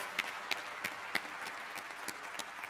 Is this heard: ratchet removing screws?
no